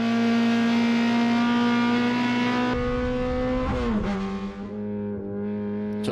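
Race cars at Lime Rock Park, one loud engine holding a steady high drone before the pitch drops sharply under braking and then climbs again as it accelerates, close and dominant with no talk.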